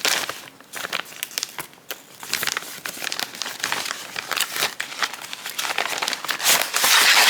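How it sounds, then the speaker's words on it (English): Reusable zip-lock plastic bags from a stamped cross stitch kit unboxing crinkle and rustle close up in quick, irregular bursts of handling. "But these are reusable bags."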